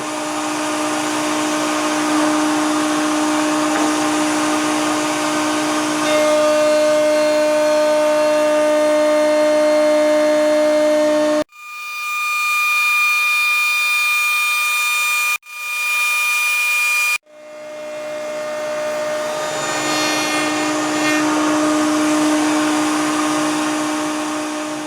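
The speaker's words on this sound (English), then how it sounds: "so I'll actually run it through the router bit" Router spinning a bit through wood to cut a stopped dado on a pen blank segmenting sled, a loud steady whining drone with tonal hum, dropping into brief quieter spells midway before resuming, no talk.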